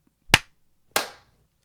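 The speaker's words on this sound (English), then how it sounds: "Okay, we're gonna do the clap." Two sharp, close claps separated by a brief pause, each a crisp percussive crack with a short decay, in otherwise quiet surroundings.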